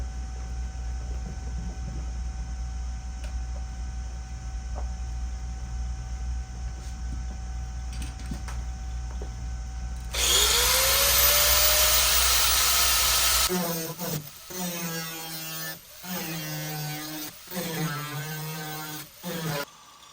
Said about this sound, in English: Let me cut along the wheel well trim and cut along my beautiful tape line